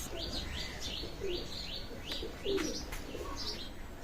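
A pair of Firozpuri pigeons coo repeatedly in soft, rhythmic phrases, close by, over a low steady background hum, without speech.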